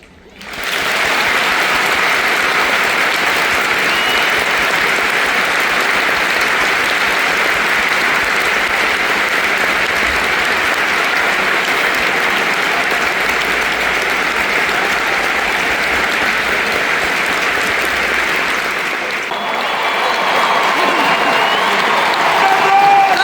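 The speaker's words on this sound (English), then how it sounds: "Right, this is just clapping." A huge arena crowd at a musicals concert claps steadily and loudly for about twenty seconds, a thick wash of applause that dips briefly near the end before swelling again.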